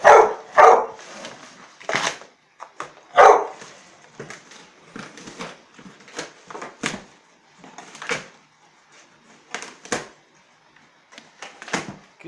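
A dog barks in sharp, separate bursts while tearing apart a cardboard box, with ripping and scuffling in between the barks over several seconds, close and fairly loud.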